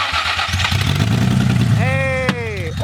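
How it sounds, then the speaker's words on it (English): A built VQ35DE engine in a Nissan Z roars loudly on its first start-up, with a single sharp bang of a backfire near the end, while people shout in surprise over it. "No, I think that was a backfire."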